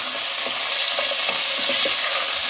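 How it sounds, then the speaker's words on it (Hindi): Bone-in chicken pieces frying in hot oil, a steady close sizzle and hiss with occasional soft stirring taps running through the whole stretch, no voices. "अब चिकन को इसको फ्राई कर लें ऑयल के अंदर ताकि इसका कलर चेंज हो जाए।"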